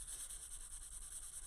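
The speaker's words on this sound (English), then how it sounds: "So I am sanding this down a little bit." Steady back-and-forth rubbing of sandpaper on a handmade wooden coaster, a soft continuous hiss with a faint rhythmic pulse, close and quiet, no voices.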